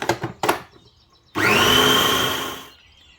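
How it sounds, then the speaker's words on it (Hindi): An electric grinder whirs for about a second and a half as it grinds washed coriander and other chicken chapli kebab ingredients, a loud steady whine that starts abruptly and then cuts off, after a few short clunks. "इसको भी डाल के ग्राइंड कर लेंगे"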